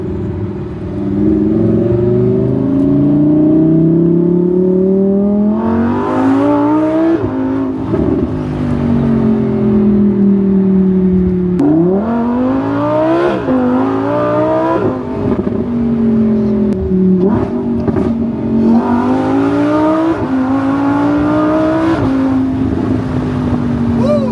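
A car engine revs repeatedly, rising and falling in pitch, loud and close, with a steady rumble between the surges.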